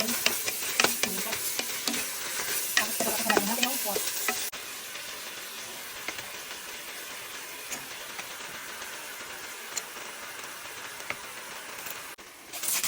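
Onions are sautéed in a pot for pork and vegetable soup, hissing and sizzling loudly at first with stirring clatters, then settling into a quieter steady sizzle with occasional scrapes.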